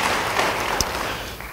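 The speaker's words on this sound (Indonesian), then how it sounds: "Beri tepuk tangan yang baik bagi Dia." A congregation at a church service claps in a brief burst of applause, a dense even patter of many hands heard for a moment at moderate loudness.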